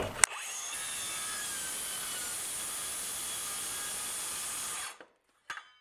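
A circular saw cuts through a wooden board in one steady, loud, continuous whine that runs for several seconds, then spins down and stops, followed by a brief clatter.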